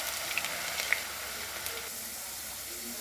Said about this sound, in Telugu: ఆలుని కొద్దిగా గోల్డెన్ బ్రౌన్ కలర్ వచ్చేంత వరకు వేయించాలి